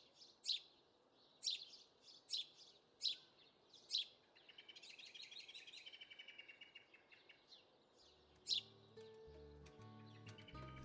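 House sparrows in a Moroccan garden chirp in short, bright bursts in the late afternoon, a few sharp calls spaced apart, then a busier stretch of twittering, with a faint tonal sound entering near the end.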